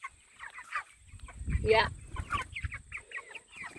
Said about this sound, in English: Just some white broiler birds